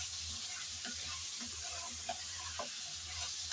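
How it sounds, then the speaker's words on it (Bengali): Ginger and garlic paste sizzles steadily in a pan while being stirred, a close, continuous frying hiss with occasional soft scrapes and clicks of the spoon. "আদা আর রসুন বাটা দিয়ে আবারও ভালো করে নেড়েচেড়ে ভেজে নিতে হবে"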